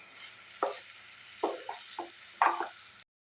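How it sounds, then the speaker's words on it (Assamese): Masoor dal and potatoes fry in a pan over a quiet sizzle, with four or five distinct scraping knocks of a spoon stirring them. "মই দাইল আৰু আলুখিনি ভালদৰে ভাজি ল'লোঁ"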